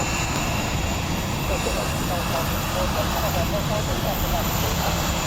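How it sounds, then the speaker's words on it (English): The XL426 aircraft taxis back to base, its engines giving a loud, constant roar and rumble that fills the whole stretch without a break. "Malcolm, we'll just taxi back to base"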